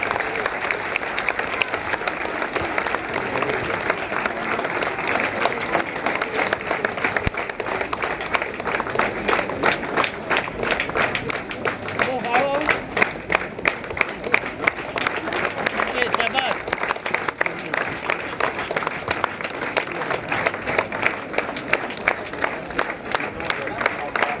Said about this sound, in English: Everybody give a huge round of applause, please.